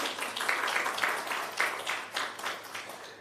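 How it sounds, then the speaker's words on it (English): Applause from an audience at a national health research conference in Jamaica, a steady wash of many hands clapping at moderate distance that swells slightly and then tapers, with no talking over it. "probably give yourself a clap"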